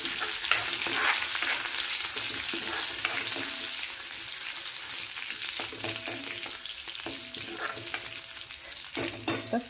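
Garlic and curry leaves sizzle in hot oil in a pan while dal is being cooked. A steady, bright frying hiss is heard up close, broken by occasional stirring clatters and no talk.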